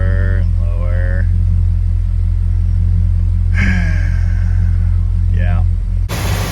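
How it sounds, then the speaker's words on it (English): A 1966 Dodge Coronet station wagon engine idling too high with the throttle fully shut, a loud steady low rumble throughout, with a voice speaking over it and a brief burst of noise at the end. "Throttle's all the way shut, still idles this high."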